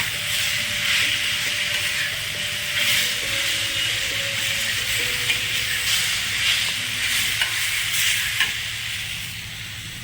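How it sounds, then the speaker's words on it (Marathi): Coconut, garlic and spices sautéing in a pan for rajma, with a steady close sizzle and soft stirring, plus a faint tonal hum in the background. "जे खोबरं घेतलं तर आधीच मी थोडं ते भाजून ठेवलेलं होतं, थोडं परतून घ्यायचं त्याच्यात"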